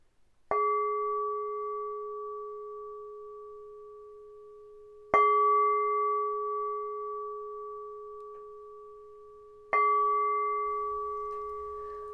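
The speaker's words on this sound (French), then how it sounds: "On va maintenant entendre le gong de départ." A gong is struck three times at steady intervals to open a morning yoga session, each stroke ringing out in a long, slowly fading hum.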